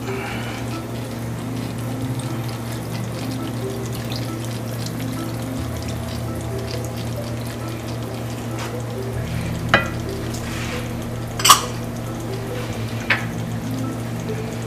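Squid adobo sizzles steadily in a frying pan as soy sauce is poured in, a continuous close crackle with a few sharp spits and pops near the end.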